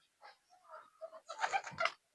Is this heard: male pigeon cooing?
yes